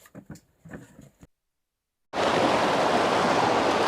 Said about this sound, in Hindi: तो ये नदी पार कर रहे हैं हम सर बडियार जाने के लिए।